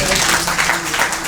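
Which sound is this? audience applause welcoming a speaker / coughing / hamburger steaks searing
audience applause welcoming a speaker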